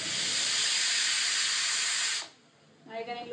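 A pressure cooker gives one long, loud, steady whistling hiss of escaping steam that cuts off abruptly after about two seconds, followed by quieter kitchen clatter and faint voices.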